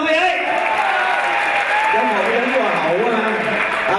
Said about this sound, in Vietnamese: chúng ta dành cho người đẹp Ngô Phương Mai một tràng pháo tay thật lớn được không quý vị?